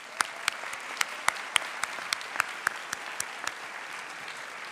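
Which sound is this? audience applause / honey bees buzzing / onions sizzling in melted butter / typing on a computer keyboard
audience applause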